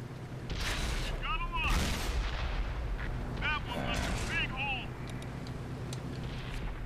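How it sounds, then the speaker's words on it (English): Tank guns boom in a World of Tanks console battle as APCR rounds are fired, heavy cannon shots and impacts echoing among whistling shell sounds, with someone talking over the action. "I'm still firing APCR at this point."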